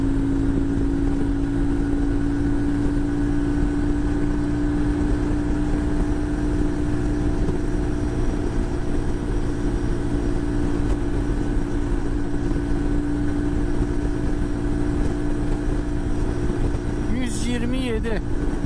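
Car engine held at 7000 rpm in sixth gear on the road, a loud steady drone with a constant tonal hum and wind and road roar, unbroken throughout while a voice speaks now and then.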